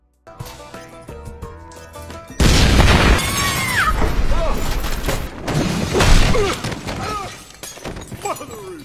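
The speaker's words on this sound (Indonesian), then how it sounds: "ternyata bomnya malah meledak duluan sebelum ditekan pemicunya." A loud bomb explosion bursts in after a quiet musical intro in a bank heist scene from the film Flypaper, followed by crashing, shattering debris and chaotic noise with voices and music underneath.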